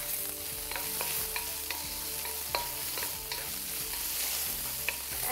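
Julienned ginger fries in a hot pan, giving a steady, close sizzle broken by scattered clicks and scrapes of stirring.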